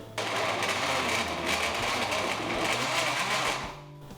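A kitchen blender whirs steadily while mixing dry dog cookie dough, a loud continuous motor drone that holds for about three and a half seconds before cutting off.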